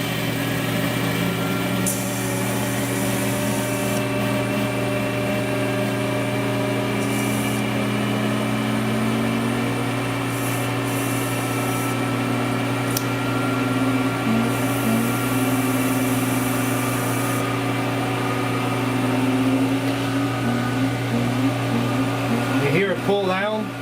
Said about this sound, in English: get a little vacuum going.